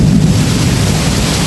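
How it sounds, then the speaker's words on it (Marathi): Heavy early-season monsoon rain driven by strong wind, a dense, loud, continuous roar of rain and gusts buffeting the microphone, with no distinct thunderclap in this short stretch. "भाई बेकार पाऊस सुटला एकदम."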